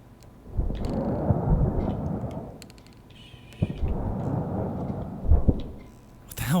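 Thunder rolls in the horror video game Blameless, set on a construction site: two long, low rumbling swells of several seconds each, deep and heavy, with no talk over them.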